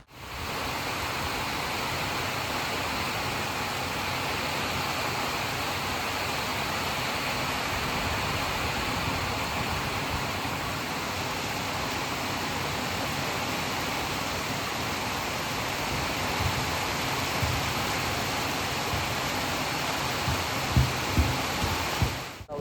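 Steady, dense rain pours down continuously in Chaukul village, Sawantwadi, a broad hissing wash with a few louder splashes near the end and no voices.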